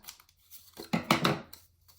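Scissors trim paper for a seed packet with several quick, close snips and rustles, the crisp cuts clustered in the middle, and no voices heard.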